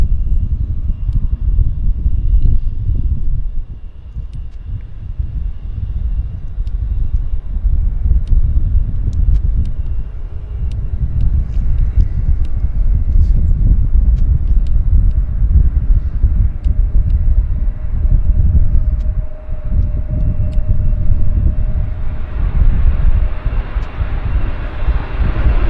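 An airliner landing and braking at Vancouver airport, a loud sustained low rumble with roaring wind buffeting, rising into a broader rush near the end, heard continuously from on board with no voices.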